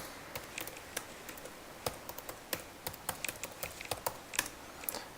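Login details being typed on a computer keyboard, a quick irregular run of crisp key taps with short pauses, fairly close and alone in a quiet room.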